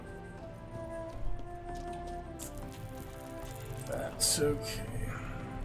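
Horse hooves clip-clop steadily across the ground as the mount is ridden in The Witcher 3: Blood and Wine, set against game music and ambience, with someone talking briefly over it.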